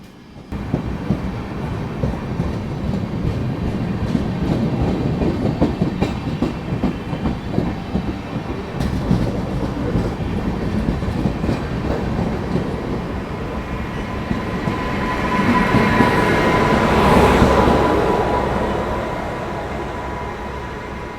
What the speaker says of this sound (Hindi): ट्रेन जो है वो इतनी स्लो रफ्तार में चल रही है।